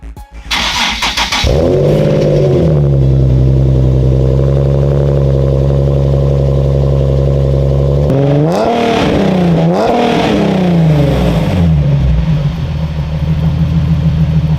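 A Nissan 370Z with a full catback exhaust cranks over and catches, then settles into a loud, steady idle and rises through several throaty revs before dropping back to a deep burble, close and alone.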